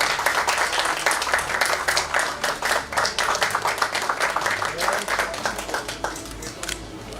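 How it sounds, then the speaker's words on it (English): An audience at a stock exchange listing ceremony gives a round of applause, a dense and sustained burst of clapping that carries on for several seconds before thinning slightly. "Can we have a round of applause for Ms. Radha?"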